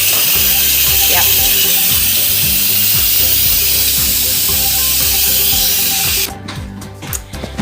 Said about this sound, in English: let the vent out, let the steam out